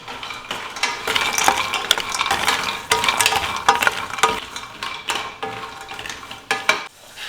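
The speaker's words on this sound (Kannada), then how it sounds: "1 ಕಪ್ನಷ್ಟು ಗೋಡಂಬಿನ ತಗೊಂಡಿದ್ದೀನಿ. ಇದು ಚೆನ್ನಾಗಿ ಕ್ರಿಸ್ಪ್ ಆಗೋವರೆಗೂ ಹುರ್ಕೋಬೇಕು." Cashews roast in a spoonful of ghee in a pan, stirred steadily with a utensil that scrapes and clinks against the metal over a continuous light sizzle, loud and close.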